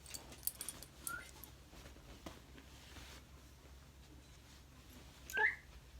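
A pet dog at home whimpers and gives small yips, mostly quiet and intermittent, with a couple of sharper, louder high whines standing out, and no one speaking.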